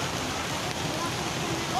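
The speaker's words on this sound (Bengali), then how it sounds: "কখন থেকে বৃষ্টি হচ্ছে" Rain pours steadily onto a shed at a Kolkata sports ground during an East Bengal match, a dense continuous patter heard from underneath, with a voice faintly present.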